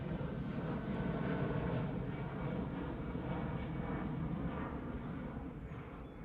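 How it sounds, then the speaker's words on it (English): An easyJet airliner takes off at Manchester Airport, a loud, steady jet-engine roar that stays broad and constant throughout, with no voices. "EasyJet just taking off"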